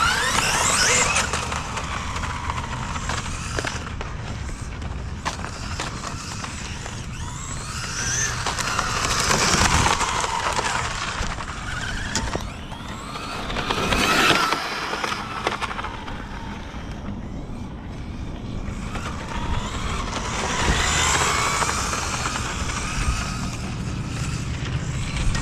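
A Traxxas XO-1 RC car races across pavement on tires made for clay tracks, its electric motor whining up and down in repeated passes as the tires hiss and scrub, louder when it runs close.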